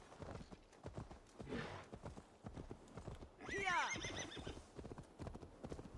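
Steady clip-clop of horse hooves with a whinny partway through, in the video game Assassin's Creed Valhalla, while a person talks over it.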